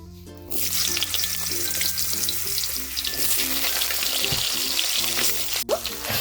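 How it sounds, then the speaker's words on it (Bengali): Potato pieces sizzle steadily in hot oil seasoned with a pinch of turmeric for a village-style poi shak chorchori, a continuous close frying hiss with a low steady hum underneath. "এখন দিয়ে দেবো আগে থেকে টুকরো করে রাখা আলুগুলোকে"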